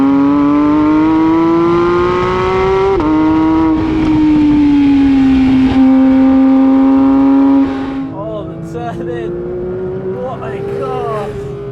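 A Porsche 911 GT3 engine revs hard while driving, a loud strong harmonic drone rising and shifting pitch through gear changes, then dropping lower later with a voice talking over it.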